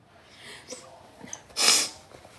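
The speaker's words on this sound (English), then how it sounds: "Excuse that, a little sniffle there." A quick, sharp sniffle through the nose, close and brief, after a few faint breaths.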